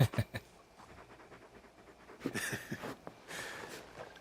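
Torgal, the large wolf-dog companion in Final Fantasy XVI, pants in quick rhythmic bursts close by, breathy and moderately loud, with some game ambience rising under it partway through.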